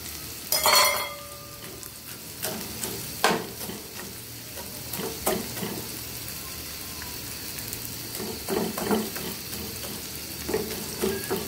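Fried hilsa fish pieces sizzle in a pan with onion and garlic while being stirred, a steady close frying hiss punctuated by repeated spatula scrapes and knocks against the pan, without speech.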